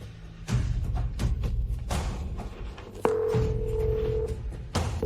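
An indoor telephone sounds with a sustained electronic ring tone over thumps and room noise in a Filipino drama scene, loud and close, with no talk.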